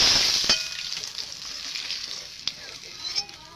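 Pangas fish frying in oil in a kadai, a close hissing sizzle loudest at the start and slowly easing, with occasional pops and light stirring clicks.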